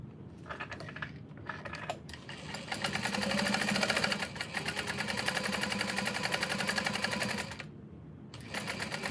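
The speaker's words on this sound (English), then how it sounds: "Okay, I'm gonna sew this on there." A sewing machine stitches a tote bag in long, fast, rhythmic runs, with brief stops near the start and another pause before it starts again at the end. The machine is fairly quiet and close, and no one talks.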